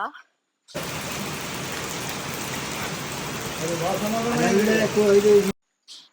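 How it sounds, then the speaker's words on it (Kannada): Heavy rain hisses steadily for several seconds, close and constant, with a voice speaking over it toward the end. "ಈ ರೀತಿ ಮಳೆ ಬಂದ್ರೆ"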